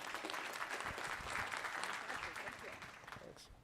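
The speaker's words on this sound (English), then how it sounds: "let's hear a round of applause." A conference audience at an AI engineering event applauding, a soft, steady wash of distant clapping with some voices mixed in, fading slightly toward the end.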